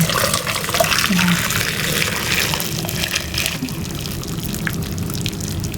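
Lemongrass water pours steadily through a strainer and cheesecloth, a continuous splashing rush that eases slightly toward the end.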